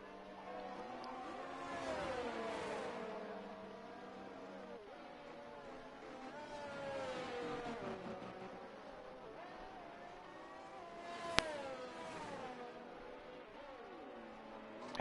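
Race car engines roar in a racing video game on a Portugal circuit, including an Aston Martin, with steady whining pitches that rise and fall through gear changes and a brief sharp click near the end.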